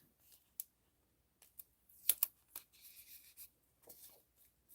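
Tape pulled and pressed onto the back of a sheet of paper in a studio, heard as a few quiet, scattered rips, rubs and clicks separated by silence, close and faint.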